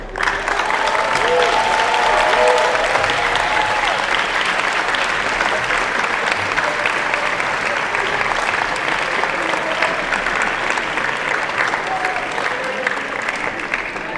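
Loud, sustained applause from standing graduates at a university commencement ceremony, dense clapping filling the hall throughout without letting up.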